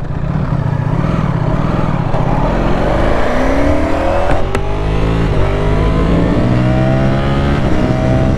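A 2025 Ducati Panigale V4S motorcycle engine pulling away, loud and close, its rising revs sweeping upward through the gears in a steady, strong roar with no talk.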